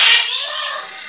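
A pet bird gives a single short, bright vocalization of about a second, close and clear, rising then trailing off.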